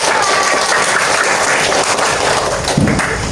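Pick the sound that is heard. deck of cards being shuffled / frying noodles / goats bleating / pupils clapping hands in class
pupils clapping hands in class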